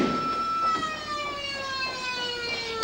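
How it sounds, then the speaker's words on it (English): A fire alarm sounds inside a prison, a steady electronic tone with layered harmonics ringing continuously and fairly loud across the whole stretch. "That is the fire alarm, Mr. Douglas."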